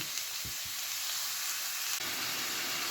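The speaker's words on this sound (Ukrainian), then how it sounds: "Ця цибулька в мене трішки притушкується, тоді піде морковка." Chopped onion sizzles steadily as it braises in a hot pan for fish with vegetables, a close, continuous frying hiss with no voices.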